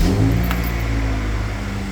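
Honda CR-V fitted with a snorkel, its engine catching and settling into a steady idle hum, with a brief click near the start and a low, even drone afterward.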